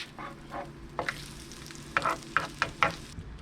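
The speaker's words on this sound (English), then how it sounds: "Now, let's go ahead and flip this one" An egg fries on a non-stick griddle just after being flipped: a steady, close sizzle broken by several short, sharp crackling bursts toward the end.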